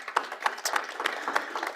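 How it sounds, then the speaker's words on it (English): A conference audience gives a short round of applause to welcome a speaker, heard as a soft, uneven patter of a few hands clapping, fairly distant and brief. "we can give Rapelani a round of applause"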